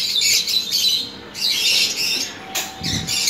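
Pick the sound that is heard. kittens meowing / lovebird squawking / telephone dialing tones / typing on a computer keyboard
lovebird squawking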